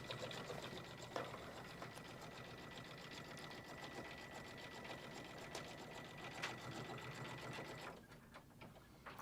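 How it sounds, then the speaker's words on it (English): A Kimberbell embroidery sewing machine stitches and quilts in a steady, fast mechanical whir with a sustained hum, running close and even before slowing to a stop near the end. "it's going to do a little stitch just down to here on each side to hold it in place and then do the quilting"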